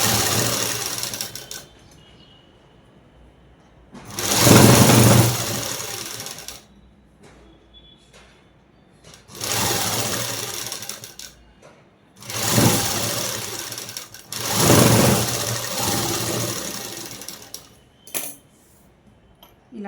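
A sewing machine stitches dress fabric for a collar-neck dress, running in several loud, close bursts of rapid mechanical whirring separated by quieter pauses.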